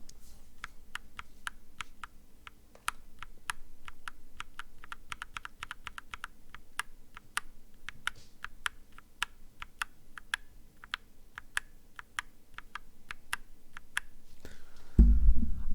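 Linear mechanical keyboard switches, including Cherry-topped ones, clack in quick, uneven bursts of typing, crisp and close, ending with a soft thump.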